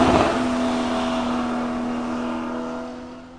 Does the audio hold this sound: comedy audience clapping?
no